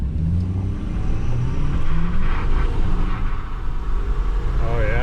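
A Ford F250 pickup with the 6.7L diesel and a cold air intake pulls away from a dead standstill on 35-inch tires, giving a loud steady engine drone and road rumble from inside the cab.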